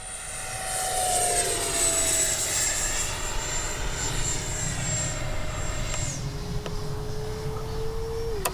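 A Freewing 70mm F9F-5 Panther RC jet with its gear and flaps down streaks past, its ducted-fan engine whining loudly with a falling pitch as it passes close and then recedes, with no talking.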